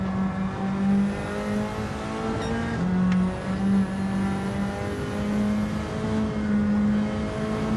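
A race car in Gran Turismo 7 online lobby racing, with a steady engine drone and tyre whir holding at high revs throughout, without pauses.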